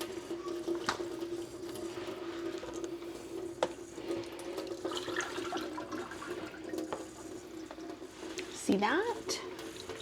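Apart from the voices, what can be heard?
rinsing cured bacon under running tap water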